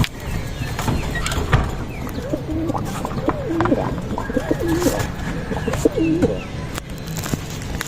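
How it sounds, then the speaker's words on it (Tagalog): Pigeons coo repeatedly at close range in a loft, soft rolling calls repeating across several seconds amid wing flutters and light knocks. "Papasok ko lang mga kalapatid."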